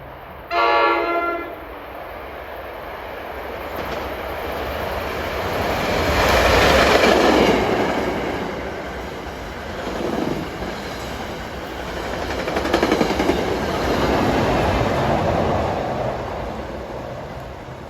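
Passenger train 6631 from Penn Station, New York to Dover passes on an autumn afternoon: a short horn blast opens, then a loud rumbling roar and clickety-clack of wheels builds, swells and lingers as the cars go by.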